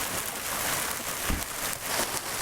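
Steady hiss of rain falling on surfaces on a steep Colorado off-road trail, a constant wash of noise with faint patters, close and unbroken.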